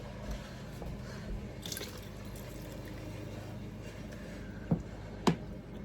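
About two cups of water are poured into a pot for broccoli cheddar soup in a cottage kitchen, a faint steady trickle and splash, ending with a couple of sharp clinks.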